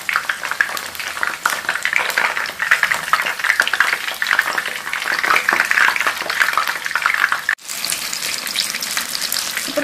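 Eggplant slices fry in hot oil for a fried eggplant with anchovy sambal dish, giving a loud, dense, continuous sizzle. The crackle cuts out briefly as the pieces are flipped, then resumes just as strongly.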